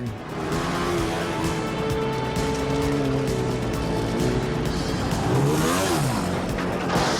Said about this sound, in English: A man and his motorcycle.